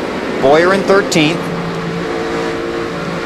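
A NASCAR Busch Series race car at the 2006 Food City 250 at Bristol, its engine droning loudly around the track as the throttle is worked, with a race commentator talking over it.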